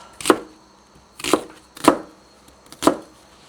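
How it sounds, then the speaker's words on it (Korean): Potatoes chopped with a kitchen knife on a board: four sharp, evenly spaced knocks at roughly one-second intervals, close and clear with no talk. "감자는 너무 크게 썰면 안 돼요"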